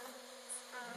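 A faint, steady insect buzz hums throughout, like bees flying nearby, with a slight rise in pitch toward the end.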